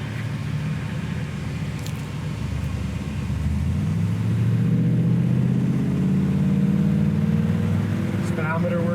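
A 1965 Chevrolet Impala SS cruises along with a steady low engine rumble that swells as it accelerates around the midpoint, then holds a loud, even drone to the end.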